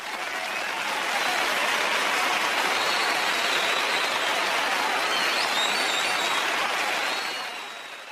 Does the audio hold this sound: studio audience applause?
yes